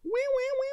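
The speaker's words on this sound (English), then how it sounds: "my cat wants to jump in here" A house cat gives a single short, clear meow close by, a rising then steady tone lasting under a second.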